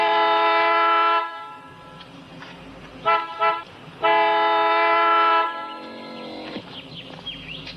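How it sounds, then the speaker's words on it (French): A car horn held down continuously in a roadside scene with a flat tyre, blaring in long sustained blasts with a few short gaps and a brief double toot, loud and close, with no talk. "Ça ne sert à rien de garder la main sur le klaxon."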